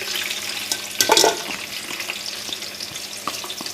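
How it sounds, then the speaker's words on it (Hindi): Two medium onions, finely chopped, fry in oil in a pot with a lively, crackling sizzle. A brief louder burst comes early, then the sizzle settles into a continuous close hiss with no speech. "अब इसी तेल में मैं 2 दरमियाने साइज़ की प्याज, इनको बारीक चॉप करके डाल दूँगी"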